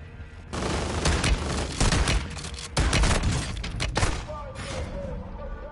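Minigun fire in the video game Warzone 2, dense sustained bursts of rapid shots with short gaps, loud and close, mixed with other game noise.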